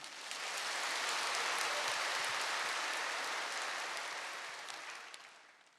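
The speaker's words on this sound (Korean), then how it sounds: "우리 하나님께 박수를 돌리겠습니다." A church congregation bursts into sustained applause during a revival service, a dense, steady wash of clapping that swells quickly, holds for several seconds and then fades out.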